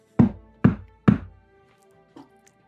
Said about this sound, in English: You guys hear a knock on the door.